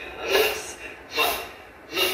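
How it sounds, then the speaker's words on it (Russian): Three sharp, noisy sniffs through the nose in steady rhythm during a Strelnikova breathing exercise done standing and sitting, close and fairly loud with short pauses between them. "Носиком шумно шмыгаем."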